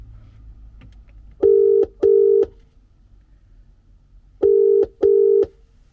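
A telephone ringing tone sounds twice, each ring a pair of short steady electronic beeps, clear and close with quiet gaps between.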